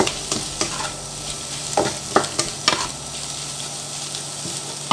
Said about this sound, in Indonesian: Ini diaduk lagi